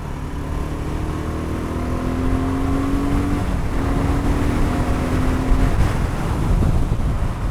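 A BSA Goldstar 650 motorcycle accelerating hard through the gears, its engine note climbing steadily and pulling strong under heavy wind rush, with a brief dip at a gear change.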